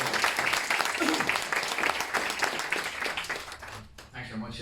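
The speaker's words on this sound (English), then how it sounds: "So a big round of applause" An audience gives a speaker a round of applause, with dense, even clapping from a crowd that fades out near the end as a voice begins talking.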